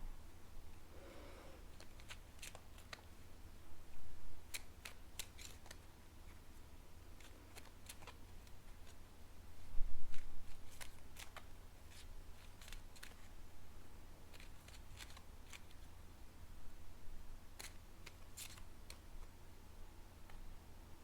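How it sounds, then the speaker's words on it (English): A deck of tarot cards is shuffled quickly on a table, giving soft, scattered riffles and taps that come in short bursts, with a few sharper clicks along the way. No voice is heard. "I'm going to give it a quick shuffle while I connect to your energy."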